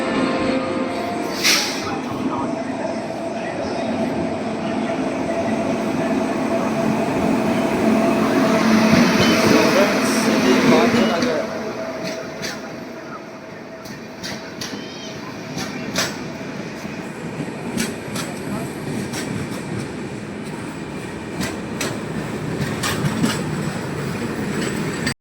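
The Bhagyanagar Express rolling into Peddapalli Junction: a loud rumble and rattle of rail cars swells, then eases into lighter clickety-clack and squealing wheels, with station voices murmuring in the background.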